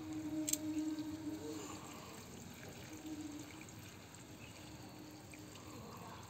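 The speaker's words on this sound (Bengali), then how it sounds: "এই ভরপুর জল দিয়ে দিলাম" Water is poured onto a potted strawberry plant, a soft splashing trickle strongest at the start and then fading to a gentle seep, faint and close, with no talk.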